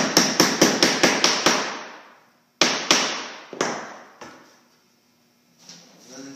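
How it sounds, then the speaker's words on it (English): Quick, evenly spaced hammer blows driving in a drawer front adjuster on a Euro-style cabinet ring out close by, then a few slower, separate strikes with pauses between them. "Hammer in the other drawer front adjuster."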